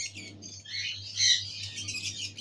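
Caged lovebirds and other breeding-pair parrots, including green fischer and blue cobalt lovebirds, chirp and squawk continuously in a busy aviary, with overlapping high calls and a low steady hum underneath.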